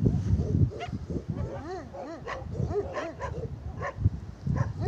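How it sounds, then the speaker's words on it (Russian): Dog barking and yipping beside a flooded dam at the entrance to Komsomolsk, a series of close whimpers and yelps in quick succession, with occasional faint background sound. "Что ты гавкаешь?"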